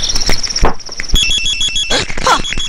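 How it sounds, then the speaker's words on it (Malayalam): A mobile phone rings in a Malayalam film scene, repeated electronic ringtone tones sounding close and clear, mixed with brief thumps and movement noises. "നിന്റെ ഫോൺ അടിക്കണേ?"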